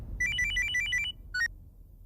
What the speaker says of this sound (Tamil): சிவா ஃபோன் பண்றாரு.